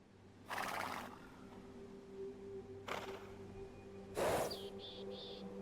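A scout cavalry horse neighs in the video game Age of Empires II Definitive Edition, three separate whinnies spaced a couple of seconds apart over a quiet low game hum.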